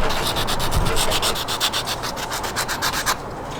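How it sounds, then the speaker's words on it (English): Hand sanding a trimmed plastic switch top during a Toyota cab fitting, a close, rhythmic series of quick rubbing strokes, about a dozen in a row. "So I'm going to trim off this top of the switch. Sand it down a bit."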